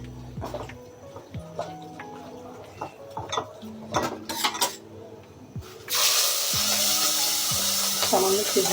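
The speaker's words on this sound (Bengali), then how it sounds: "হলুদ, মরিচ আর লবণ দিয়ে এটা একটু ভেজে নিব।" Pieces of cow skin coated in turmeric, chili and salt go into oil in a karahi: a few utensil clinks and knocks come first, then a loud, steady sizzle takes over.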